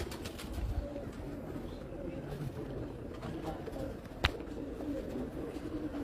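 A female pigeon coos softly in low, repeated calls, faint and steady against a murmuring background, with one sharp click near the end.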